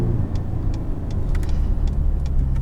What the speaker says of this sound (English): you do get some nice pops and cracks from the exhaust